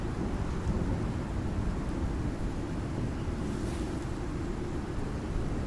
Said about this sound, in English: Just until it stops raining